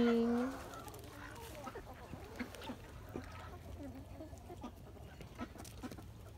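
Chickens cluck softly on a farm among ducks, geese and sheep, with scattered short calls over low background noise after a brief voice at the start.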